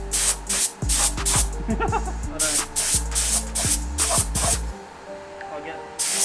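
A paint spray gun on a hose sprays the interior of a racecar in loud, close hissing bursts, stopping and starting repeatedly, with a brief spoken remark among them.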